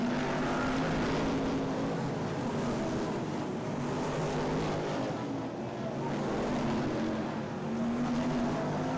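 BriSCA F1 stock car engines rumble and drone together at a race meeting, a dense sustained roar with rising and falling pitch heard at a distance.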